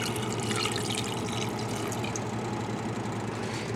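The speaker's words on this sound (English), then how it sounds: "And now I'm going to add some water." Water pours steadily into a pot of simmering Asian-inspired pork soup, a continuous low rushing splash heard close and fairly quiet, with no voices over it.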